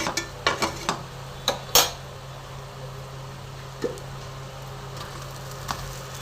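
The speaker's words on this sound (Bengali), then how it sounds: "এবার আমি বাসমতি চালের ভাতটার মধ্যে দিয়ে মিশিয়ে নেব।" Cooked basmati rice is stirred slowly into ghee-fried masala in a wok, giving scattered metallic scrapes and clinks of a spoon against the pan, a few sharp knocks early then sparse soft taps over quiet background.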